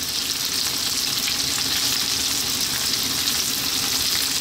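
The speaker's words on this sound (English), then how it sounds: "High heat, stirring all the time, 2 to 3 minutes." Onion, carrots and chilli stir-fry over high heat for a Chinese fish dish, giving a loud, steady, unbroken sizzle that holds for the whole stretch with no voices.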